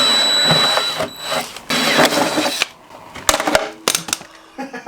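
A rivet gun sets rivets on a Ski-Doo Rev XP brace kit in a series of sharp mechanical snaps and clacks, first over steady workshop noise and then as separate close, loud pops.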